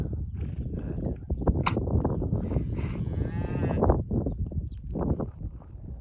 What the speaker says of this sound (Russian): Вот коровы пришли на пастбище.